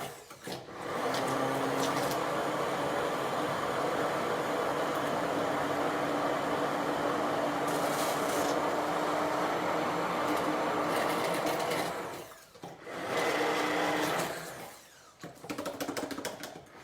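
Bosch ErgoMixx hand blender running at a medium speed setting to mix cranberry ketchup, a loud steady motor whir lasting about eleven seconds, then stopping and briefly starting again with short bursts.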